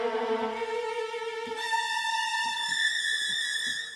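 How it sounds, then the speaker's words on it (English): A bowed string section plays a rapid trill alternating between two notes in a cartoon score, sustained and moderately quiet, shifting to a higher, brighter pitch halfway through, with faint soft thumps underneath. "we're going to put some strings playing a trill"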